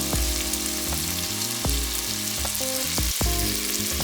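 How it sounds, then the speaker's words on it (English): Bacon sizzles steadily in a pan as its fat renders, a loud dense crackle with scattered pops and occasional scraping stirs, close up and without voices. "we're gonna go ahead and just render all the fat off of this bacon"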